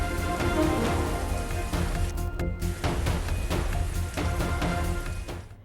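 Heavy monsoon rain in Mumbai pours down steadily, a loud, dense wash of rainfall on city surfaces with scattered sharper splashes throughout.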